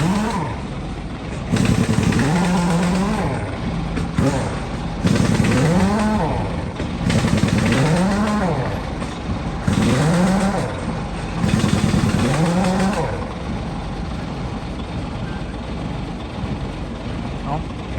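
A motorcycle with a rough, uneven-running engine is started and revved in repeated bursts, each rise and fall clearly rhythmic, then settles into a loud, irregular idle up close.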